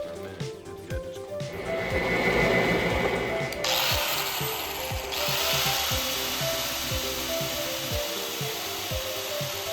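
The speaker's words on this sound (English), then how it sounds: "I might spin it and just put the grinder to it for a minute" A grinder held against the spinning gas tank of a 1982 Z50 motorcycle, cleaning the gasket edges; a steady, close abrasive whir with rhythmic scraping ticks, brightening in pitch partway through, with no talking.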